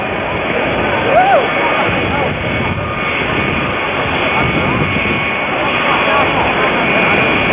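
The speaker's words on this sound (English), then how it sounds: "It's a 707 Astrojet." Jet engines of a Boeing 707 Astrojet roar and whine steadily at an airport, a loud continuous drone with a high whistling tone, a voice talking over it.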